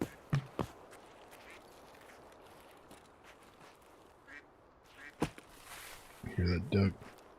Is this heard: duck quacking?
yes